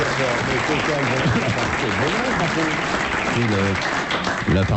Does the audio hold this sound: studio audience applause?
yes